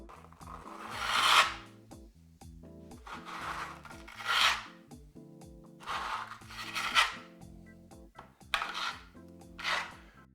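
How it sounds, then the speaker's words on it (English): A trowel is dragged with firm pressure across a wall coated in Venetian stucco, giving repeated scraping, rasping strokes, about seven in a row, close and moderately quiet, with faint clinks between passes. "We put the trowel, with an angle of about 30 degrees, and we drag it around with some force."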